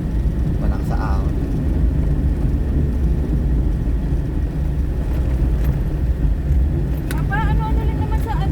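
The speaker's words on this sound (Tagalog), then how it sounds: "Private van? Oo, pero Private malakas naman makina niya." A private van's engine drones loudly and steadily from inside the cabin, straining as it climbs uphill, with occasional voices and a few brief chimes.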